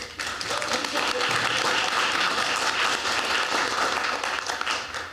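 A committee meeting audience bursts into loud, dense applause, a full wash of clapping that holds steady for several seconds before easing slightly at the end.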